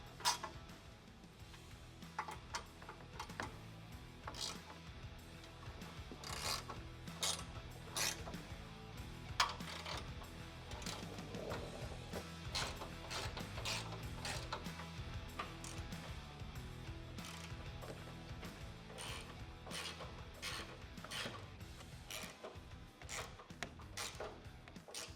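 A ratchet wrench tightens bolts while a Rough Country Safari bar is installed on a 2021+ Ford Bronco bumper, making quiet, close, rapid clicking in repeated bursts of strokes with brief pauses between them.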